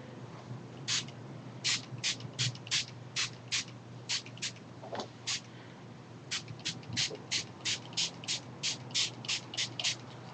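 Short bursts from a spray bottle of colour misting onto a mixed media art book, roughly two dozen quick hissing puffs in uneven clusters, close and crisp over a quiet background.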